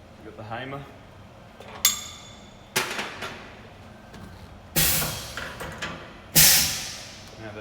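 A hammer taps a tool into the spindle of an Optimill F80 milling machine: four sharp metallic strikes spaced about a second apart, loud and close, with a few lighter ringing taps between them.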